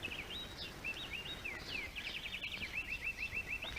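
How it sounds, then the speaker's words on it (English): Birds singing at a distance, a run of repeated high warbling chirps and trills over a steady background hiss, with no talking. "Well, listen to those birds sing."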